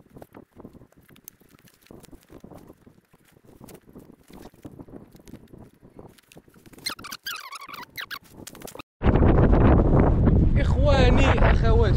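Strong outdoor wind buffets the microphone near Azilal in Morocco, rising to a loud, steady roar in the second half after quieter stretches with a few squeaky sounds and soft activity nearby.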